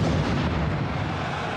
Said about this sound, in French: on entend pour le moins distinctement 2 explosions